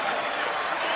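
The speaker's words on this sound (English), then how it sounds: "please give these 2 warriors of the ring a round of applause for an unbelievable fight inside this ring" A boxing arena crowd applauds after a twelve-round fight, Matthysse against Provodnikov, a dense and steady wash of clapping filling the whole moment without a break.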